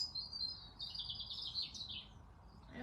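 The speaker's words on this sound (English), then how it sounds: "Birds are competing with me today." Birds chirp outdoors in a faint, high, continuous twittering over a low background rumble, with no voices.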